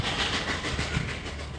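Durango-Silverton narrow-gauge train rolling through a snowy winter landscape, with a steady rhythmic clickety-clack of wheels on rail joints over a continuous rumbling hiss, close and fairly loud.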